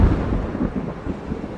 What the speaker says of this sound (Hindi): बादल भी गरज रहे।